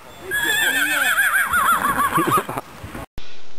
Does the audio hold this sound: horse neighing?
yes